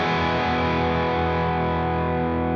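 Electric guitar played through a mildly driven Victory amp with a Seymour Duncan Palladium Gain Stage drive pedal, a single thick distorted chord ringing out and slowly decaying, loud and alone.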